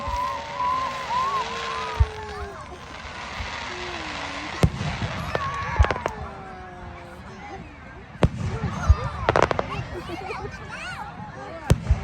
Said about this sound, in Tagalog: Fireworks here in Grand Prairie.